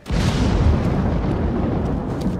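A cannon bombardment in the video game Ghost of Tsushima sets off a loud, deep explosion that rumbles steadily for about two seconds, heard alone without talking.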